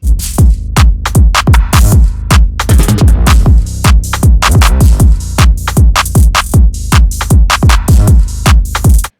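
A drum kit groove played alone: punchy kicks and snare hits with busy hi-hats in a steady, driving rhythm, loud and up close throughout.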